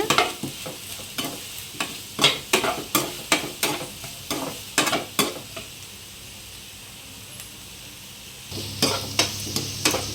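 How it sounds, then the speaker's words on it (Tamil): Onions being sautéed in a pan for Tamil tomato thokku, with a spatula striking and scraping the pan in a steady rhythm over a soft sizzle, close and fairly loud. The strokes pause briefly before resuming. "வெங்காயம் வந்து நல்லா வதங்கி வரணும்"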